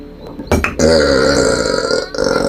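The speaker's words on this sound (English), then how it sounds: "when he burps, he's burping pizza." A loud, long, drawn-out burp right up close, rumbling and croaky with a short wet onset before stretching on for about two seconds.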